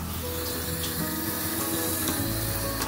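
Water rushes steadily from a garden hose fitted with a dog-bath attachment, a close, continuous broadband hiss and spray with no pauses and a faint low hum beneath it.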